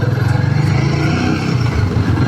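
A Royal Enfield Himalayan 450 motorcycle rides through city traffic in Fortaleza, its engine giving a steady, close, throbbing drone with a slight pulsing rhythm throughout.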